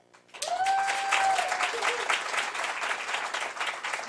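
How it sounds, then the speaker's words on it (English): A crowd applauds performers at an event, breaking into loud, sustained clapping with cheers and a whistle near the start, then continuing steadily to the end. "Let's give a cheer for our performers."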